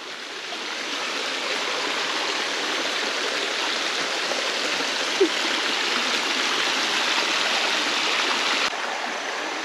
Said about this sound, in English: another little creek and rapid section with no one here.